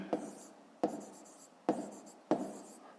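Pen writing down a fifth-grade maths answer on paper, four separate bursts of scratchy strokes, each starting with a sharp tap, close and fairly quiet.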